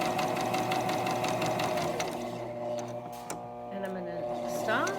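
A sewing machine stitches a fabric hair scrunchie with a steady, close mechanical whir and rapid needle rattle that runs through almost the whole stretch, easing slightly near the end.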